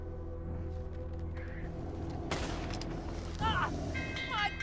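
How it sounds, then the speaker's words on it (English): Gunfire in Red Dead Redemption 2 during a balloon ride: a sharp shot crack stands out over a steady background drone, followed by shrill whistling tones, with a tense voice speaking nearby. "They're shooting at us!"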